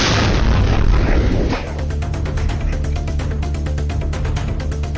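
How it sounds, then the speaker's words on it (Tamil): A mini lorry explodes on a residential street, a loud, close burst of broad roaring noise for about a second and a half, then settling into a steady rattling, crackling rumble with rapid regular ticks. "மினி லாரி ஒன்று திடீரென வெடித்து சிதறிய சம்பவம் அதிர்ச்சியை ஏற்படுத்தியுள்ளது"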